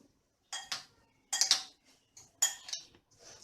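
A spoon works through paneer tikka stuffing with chopped green coriander in a bowl, giving a few separate scraping clinks and taps spaced out over a few seconds, fairly close and with no talking.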